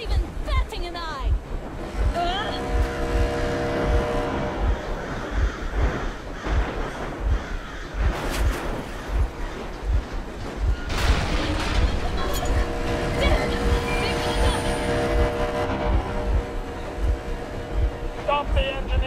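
Vehicle engine running in the video game Metro Exodus, a steady low rumble with rhythmic pulsing throughout, mixed with wind noise and background layers, and talking heard over it.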